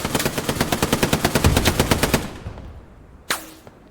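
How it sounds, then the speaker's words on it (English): Machine gun fire in a video game set on Omaha Beach: a rapid, evenly spaced burst of about two seconds fades out, and a single sharp shot follows. "Be careful because we have this MG here."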